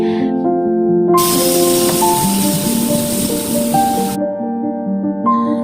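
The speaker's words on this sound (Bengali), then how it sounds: "এদিকে একটু পাঁচ ফোড়ন দিয়ে আলু ফুলকপি গাজর পেঁপে যা যা কেটেছিলাম সেটাকে একটু ভেজে নিচ্ছি" A loud burst of sizzling hiss rises as potato, cauliflower, carrot and papaya fry in oil with panch phoron, then cuts off after a few seconds, with music playing throughout.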